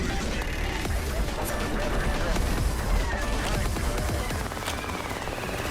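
Rapid gunfire from a Roblox Gun Game build, dense continuous shots crackling close and loud throughout, with game effects layered in and no pause between bursts.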